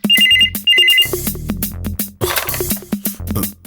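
A telephone rings loudly and close, repeating a bright electronic ringtone pattern in steady bursts over a musical backing in a Malayalam TV comedy scene.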